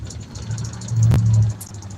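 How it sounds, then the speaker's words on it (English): A bus engine idles with a deep, steady rumble that shakes the vehicle, swelling louder for about half a second mid-clip before settling back; no one speaks. "What's shaking is the engine."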